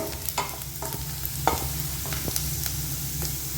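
Finely chopped ginger sautéed in a pan for a Chettinad dish, a continuous sizzle broken by quick spatula scrapes and clicks, close and moderately loud, no talk.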